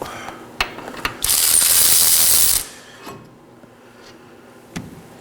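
A ratchet removes a brake caliper bracket bolt on a Nissan Sentra: a few sharp clicks, then a loud fast continuous ratcheting burst for over a second, followed by scattered clicks and clanks up close.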